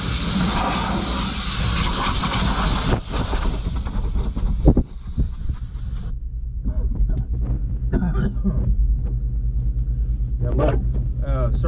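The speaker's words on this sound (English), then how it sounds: "I'm using an Ingersoll Rand type, or a gas powered type 30 air compressor." Gas-powered Ingersoll Rand Type 30 air compressor blowing dust out of an SVL machine cab, a loud continuous hissing rush with low rumble, sharper blasts in the first seconds before settling into a steadier roar.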